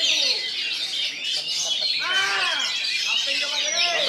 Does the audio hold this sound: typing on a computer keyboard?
no